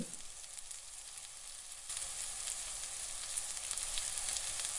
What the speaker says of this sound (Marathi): आता आपण कमी गॅसवरतीच तळून घेणार आहोत